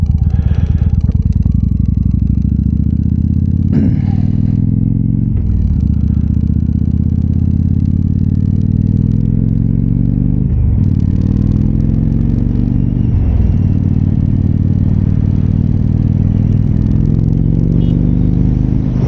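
Motorcycles ride past on a road over a steady, loud engine drone, with several distinct pass-bys swelling and fading through the stretch.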